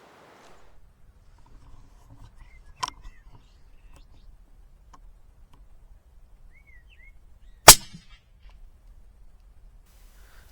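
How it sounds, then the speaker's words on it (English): A single sharp crack from a Nitro HV Hornet air rifle fired outdoors at birds over a decoy, loud and near, with a fainter snap earlier and quiet field ambience and faint birdsong around it. "It's almost as if they're attracted by the sound of the shot."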